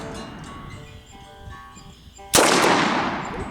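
A Colt Lawman Mk III revolver fires a single loud .357 shot, a sharp sudden boom near the end that rings out and slowly decays, following a quiet stretch of low background noise.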